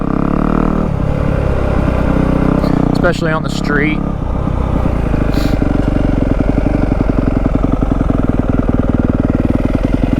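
A Yamaha WR250F dirt bike fitted with a YZ exhaust idles and revs loudly up close on the street, a sharp blip of throttle followed by a steady, pulsing idle, with a rider talking briefly over it.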